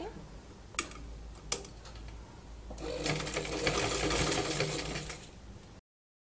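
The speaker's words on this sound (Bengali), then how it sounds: "আমি সাইড বরাবর সেলাই করে নিচ্ছি" A sewing machine stitches along the side of a cloth shoe: two sharp clicks first, then a few seconds of steady, close mechanical whirring and rapid ticking before it stops abruptly.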